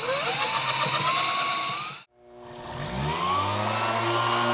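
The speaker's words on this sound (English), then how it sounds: "I've got my sander running really slow. I want to get those scratches out" A power sander runs slowly on an electric guitar body with a loud, whining motor hum that cuts out abruptly halfway, then spins back up and rises in pitch.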